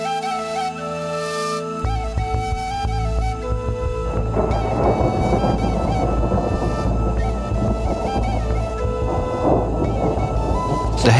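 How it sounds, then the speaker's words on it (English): Heavy rain pours on a hiking trail in Italy while thunder rolls in, the downpour building from a quieter start into a loud, dense roar with deep rumbling underneath and no talking. "The heavy rain still took us by surprise."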